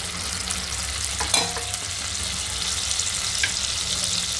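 A spoonful of butter sizzles and melts into caramelised sugar in a pan over low flame for caramel popcorn, making a steady, bright, close frying hiss with a few brief scraping stirs.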